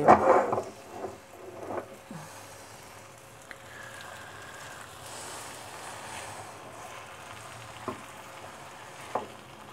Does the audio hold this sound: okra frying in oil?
yes